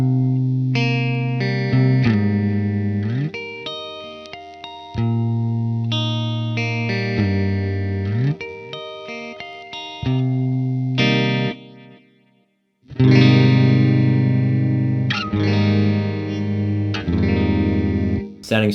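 Clean electric guitar played through the Neural DSP Archetype Gojira amp plugin, ringing chords and riffs with no grit, loud and close, with a short silence before the playing resumes.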